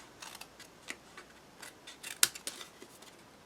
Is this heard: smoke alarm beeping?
no